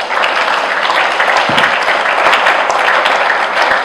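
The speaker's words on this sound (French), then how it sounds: "Je voulais aussi que vous puissiez applaudir le courage de Luc." An audience at a political party congress applauds, with loud, dense, continuous clapping from a crowd filling the space.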